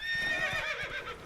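A horse whinnies during a horse race in The Witcher 3: Wild Hunt, a close, bright neigh with wavering pitch over faint hoof clip-clops, lasting about a second.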